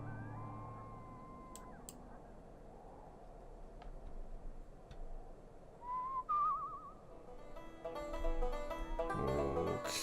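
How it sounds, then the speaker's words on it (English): Whistled notes in the video game Where The Water Tastes Like Wine: a soft, sliding whistle early on, a warbling whistled phrase near the middle, then a louder run of tones toward the end over a quiet background. "As the person said to whistle to match up the notes, you'll walk faster."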